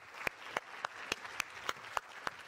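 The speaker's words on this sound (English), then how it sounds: "Please give a round of warm applause for Kim Carstensen" Applause from a conference audience as a speaker walks on stage, with a soft bed of clapping and sharp individual claps standing out in a regular rhythm, roughly three per second.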